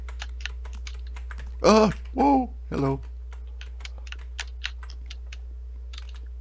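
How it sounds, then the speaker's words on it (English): Someone refits a loose W key on a computer keyboard, giving crisp clicks and taps close by. A voice briefly exclaims partway through, over a steady low hum. "my W key came off my keyboard, so I'm trying to fix it."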